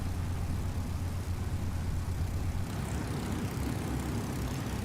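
Spitfire engine in a flight game, a steady broad drone with a low rumble throughout as the plane takes off from a taxiway, with no voices.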